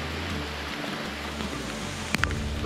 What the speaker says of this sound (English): she's raining properly now